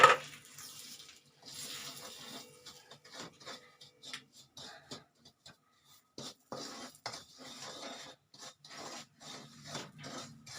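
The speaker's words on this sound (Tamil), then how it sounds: "ஒரு டீஸ்பூன் நெய் போட்டுப்போம் ரவையை வறுக்கிறதுக்கு" Semolina (rava) stirred and roasted in a teaspoon of ghee in a pan for Tamil-style gujiya (somas) filling: intermittent scraping and rasping strokes of a spoon, close and moderately loud, in irregular bursts with short pauses.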